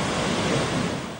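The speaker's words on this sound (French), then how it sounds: "dans ce lieu paisible, sous le bruit des vagues" Ocean surf breaking steadily on the beach at Grand-Bassam, a continuous loud wash of waves with no pauses, filling the whole moment with dense broadband rushing noise.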